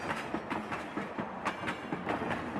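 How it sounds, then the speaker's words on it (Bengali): A fast-moving train rolls along with a steady, rhythmic clickety-clack of wheels over rail joints, a continuous rumbling run with no voices. "বর্তমানে বেশ দ্রুত গতিতেই এগিয়ে চলেছে ট্রেনটি"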